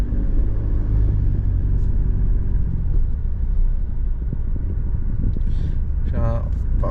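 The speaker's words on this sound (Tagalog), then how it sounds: "Nata-traffic na tayo." Steady, loud low-frequency engine rumble of road traffic around a Mitsubishi Strada pickup, continuous throughout, with faint higher tones and a brief horn-like sound near the end.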